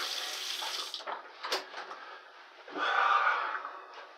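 Running tap water rinsing a razor during a wet shave, a steady close splashing flow that dips midway and then swells louder toward the end.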